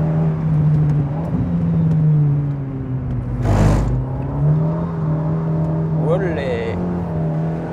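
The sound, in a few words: Alpine A110 Ravage car engine revving while driving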